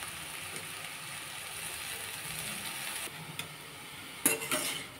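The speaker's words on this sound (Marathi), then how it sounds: "आता शेपूची भाजी छान व्यवस्थित खालीवर मस्त व्यवस्थित परतून तेलामध्ये परतून घ्यायची आहे" Dill greens (shepu bhaji) are stir-fried in hot oil, giving a steady close sizzle with scraping and clinking as the leaves are turned, plus a few louder stirring scrapes near the end and no talk.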